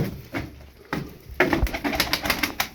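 Tumbler pigeons coo and flutter nearby in a series of soft bursts, with rustling and wingbeats growing busier toward the end; no one speaks.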